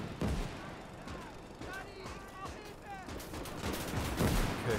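Gunfire and shelling pound a hill in the World War II strategy game Gates of Hell: Ostfront, a fairly faint, rolling mix of shots and booms with whistling projectiles that carries on throughout.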